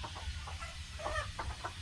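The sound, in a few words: chickens clucking near a chicken coop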